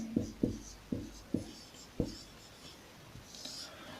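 Chalk taps and scratches out an answer on a classroom board in short, sharp strokes, about five distinct marks in an irregular rhythm, heard fairly close over a quiet room with faint background hiss.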